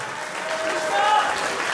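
Crowd applause at a fight night event, a brief burst of clapping with voices mixed in underneath.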